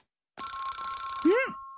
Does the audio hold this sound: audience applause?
no